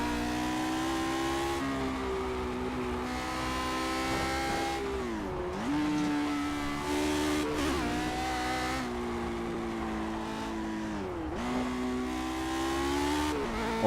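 Lotus 49 racing car in the Project Cars video game, its engine droning loud and steady with rising and falling pitch as it revs, dips on shifts and lifts, then climbs again, with no talk.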